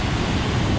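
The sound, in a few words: waterfall on a walk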